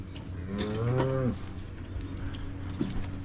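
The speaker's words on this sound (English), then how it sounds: "There goes an older cow down the lane." A Brown Swiss cow moos once on pasture, a clear drawn-out call near the start, followed by quiet outdoor farm ambience and a short faint vocal sound near the end.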